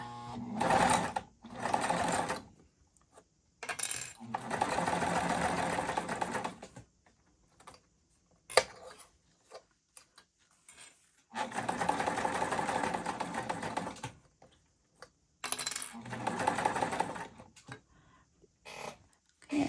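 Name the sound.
sewing machine basting a zipper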